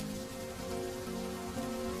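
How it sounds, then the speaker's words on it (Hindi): Steady, heavy storm rain pouring down, a dense continuous hiss of drops drumming on surfaces with no pauses. "अरे तूफानी बारिश बढ़ती जा रही है"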